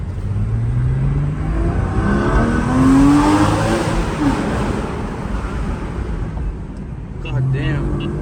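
A Porsche Boxster GTS engine revs and pulls hard while driving, a steady loud drone rising and falling through the gears, with someone talking over it throughout.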